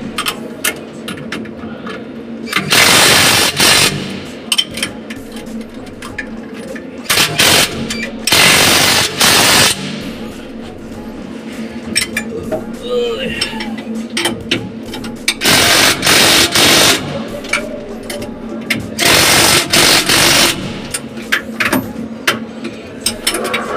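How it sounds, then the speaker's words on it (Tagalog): Impact drill fastening bolts on R-Y-B switchgear busbars during installation, heard as several loud bursts of rapid mechanical hammering, each a second or two long, separated by quieter stretches of workshop background. "Ginamitan ko na ng impact drill."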